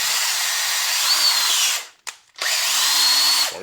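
A vintage Milwaukee hammer drill runs at a high, steady whine for nearly two seconds, stops briefly with a short blip, then spins up again for another sustained run, loud and close with no talking.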